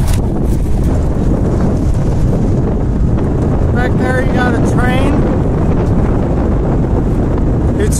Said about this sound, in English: This is what you get for living on the plains. It's just wind everywhere.